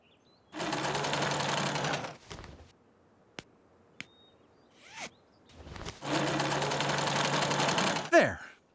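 A sewing machine stitches a shirt in two long, loud, steady bursts of rapid mechanical chatter, separated by a pause with a few small clicks and rustles.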